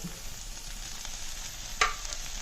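Onion, curry leaves and chopped tomato sauté in a hot pan with a steady sizzle, and a single sharp spatula scrape stands out near the end. No one speaks.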